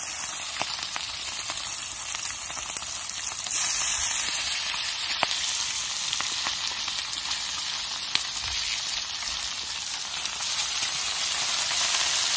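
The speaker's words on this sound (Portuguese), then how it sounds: "Vai escutar o estralinho na banha." Fish frying in hot lard sizzles in a dense, steady hiss peppered with sharp pops and crackles, close and loud throughout, with no talking.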